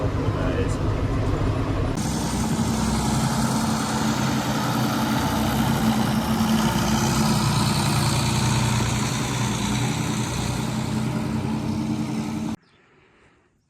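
A John Deere 7810 tractor engine idles at a steady mid-pitched diesel drone, close and continuous for about twelve seconds before cutting away to near silence.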